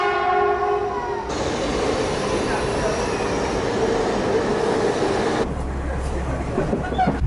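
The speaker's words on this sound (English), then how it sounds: "The train just came by, but it was too quick." A Shinkansen high-speed train rushes past with a loud, steady roar that cuts off abruptly after a few seconds.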